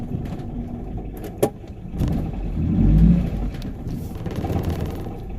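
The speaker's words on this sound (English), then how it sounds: "We're backing up the car in the driveway." A car reversing into a home driveway, a steady engine rumble that swells as it picks up revs mid-way and then settles, with a sharp click early on and no talking.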